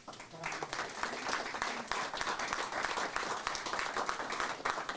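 An audience at an evening pitch competition gives the presenters a steady round of applause, dense clapping that holds at an even level throughout with no voices rising above it.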